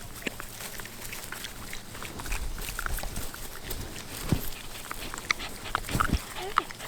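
Pigs scurry about in a pasture, soft grunts and rustling hoofsteps in the grass, with scattered thumps and a few light snorts amid steady background noise.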